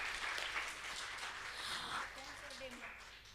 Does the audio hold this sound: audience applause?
yes